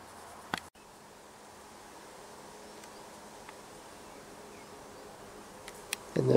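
Bees buzz softly and steadily around flowers in a permaculture garden, a faint continuous hum with a few brief louder passes close by.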